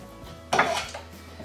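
Pots and cutlery clatter briefly in a storage shelf at the back of an overland vehicle's canopy, a single close metallic jangle that quickly fades into quiet background.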